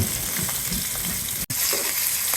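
Rui fish frying in hot oil, a steady dense sizzle and crackle close by with faint stirring scrapes, continuous and briefly cut off near the middle.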